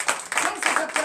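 A church congregation at a night deliverance and prophecy service claps in acclaim, a short dense burst of many hands, loud and close, with voices mixed in.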